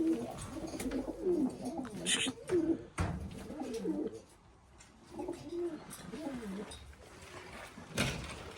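Pigeons in a coop coo repeatedly in a low, throaty warble, close by, with a few sharp knocks and rustles in between and some voices mixed in.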